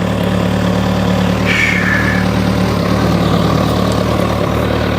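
A new 2026 Kawasaki ZX-6R motorcycle idles through its exhaust with a loud, steady, even low hum that holds unchanged throughout, with no talk.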